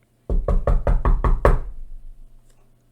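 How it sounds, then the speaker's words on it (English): Seven quick, even knocks on a house door, loud and close, followed by quiet. "I knocked on the door."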